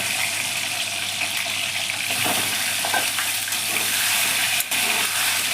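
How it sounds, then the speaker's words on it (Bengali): Eggs frying in hot oil for egg korma, a steady loud sizzle and crackle throughout, close up, with occasional stirring scrapes and no talking. "এই তেলের মধ্যেই দেখো বন্ধুরা, আমি ডিমগুলোকে একদম হালকা করে একটু ভেজে নেব"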